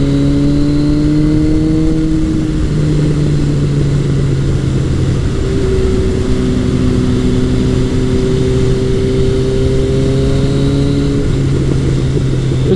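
A 1981 Kawasaki KZ1000 CSR motorcycle engine pulls steadily while riding on the road, a loud, continuous droning hum with slowly shifting pitch under heavy wind rush, no one talking.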